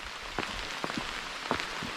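Steady rain falls nearby on a hike to Sandagalathenna, a soft continuous patter with a few louder drops tapping on a surface.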